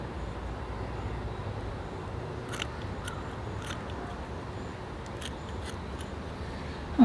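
Scissors cut through cloth during repotting of a rosemary or baobab seedling, with a few faint, brief snips over a steady background hiss and no talk.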